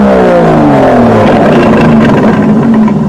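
A loud, raspy Aston Martin DB11 exhaust note in Sport Plus mode pulls steadily, its pitch dipping slightly before holding a rough, throbbing drone close by.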